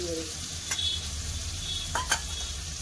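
Potatoes and tomatoes sautéing with cumin, turmeric, chilli powder and ginger-garlic paste in a pan for an egg omelette curry, giving a constant close sizzle with a few sharp scrapes of the spatula.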